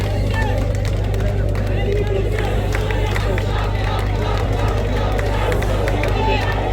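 A large outdoor crowd at an Onam tug-of-war contest in Palakkad claps and cheers continuously, a dense babble of voices and scattered applause, with a steady low hum beneath and an announcer's voice over it.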